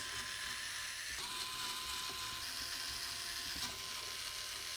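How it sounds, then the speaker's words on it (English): Allen key screws being turned out of the dial on a CF64v coffee grinder, giving faint close ticking and clicking of metal over a constant hiss, with no voices. "Let's remove these 4 Allen key screws."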